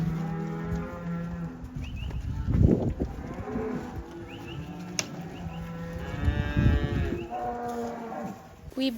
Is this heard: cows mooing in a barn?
yes